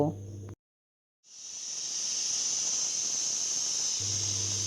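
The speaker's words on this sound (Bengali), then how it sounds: "প্রেশার কুকারের ঢাকনা কে পাঁচটা সিটি দিয়ে নেব" A loud, sustained high-pitched hissing whistle of steam escaping a pressure cooker cooking mutton and fried potatoes, rising after a brief silence and holding steady for several seconds.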